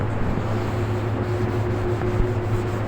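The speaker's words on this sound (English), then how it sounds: "I'm sanding this to 3000, so there won't be any sand scratches" Fine 3000-grit sanding of car paint on a Range Rover, a steady close rubbing hiss with a low hum underneath, continuous and even throughout.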